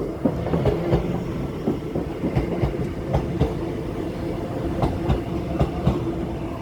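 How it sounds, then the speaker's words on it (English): A train pulls out of Leeds station with steady wheel rumble and repeated clickety-clack rail joints, close and continuous with no talk. "this video is brought to you by a train that is pulling out"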